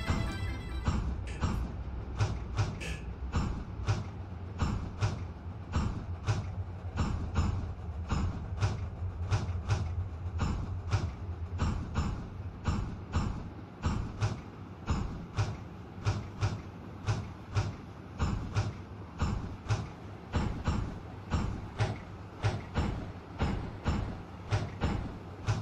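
An oil freight train bound for Coevorden rolls steadily past nearby, its wheels striking rail joints in a long, regular clacking rhythm over a continuous rumble.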